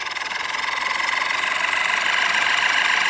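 A HobbyKing SuperG RC model jet engine spools up in its auto start sequence, a loud, steady rising whine and rumble that grows slightly through the clip, with no talk.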